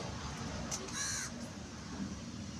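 A single crow caws once at a moderate distance, a short harsh call over steady outdoor background noise.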